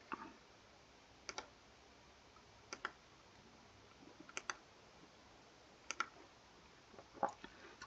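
Computer mouse clicks while working a virtual tabletop game scene, coming as sparse, faint double clicks spaced a second or two apart against a quiet background.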